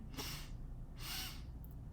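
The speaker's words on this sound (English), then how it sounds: "Just sniff twice without exhaling through your nose, and then exhale through your mouth." Two quick, sharp sniffs through the nose, close and breathy, about a second apart, over a low steady hum with no talking.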